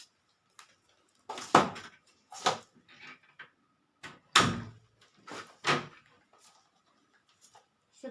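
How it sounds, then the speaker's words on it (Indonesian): Closing a window curtain and a door before a pap smear examination produces a series of separate rustling swishes, scrapes and thuds in an otherwise quiet room, fairly close, with pauses between each movement and no voices. "kita harus menutup tirai jendela maupun pintu"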